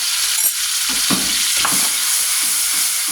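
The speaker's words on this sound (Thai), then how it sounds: "เราก็จะใส่พริกลงไปผัดก่อนนะคะ" Chili peppers stir-fry in a little cooking oil, giving a loud, continuous close sizzle broken by soft repeated scraping strokes of the spatula; no voices.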